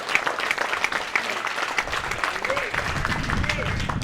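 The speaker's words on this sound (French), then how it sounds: "Là, Miguel il est content qu'on applaudisse par contre." Spectators at a padel match in Réunion clap warmly, a dense round of applause filling the court while commentators talk over it.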